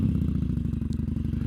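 A Harley-Davidson Sportster engine rumbles close by in a steady, low, loping pulse with a light mechanical clatter, running alone.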